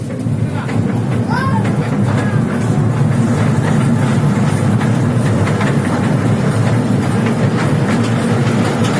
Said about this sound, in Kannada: ಟ್ರೈನ್ ಮುಂದೆ ಹೋಗ್ತುಂಟು.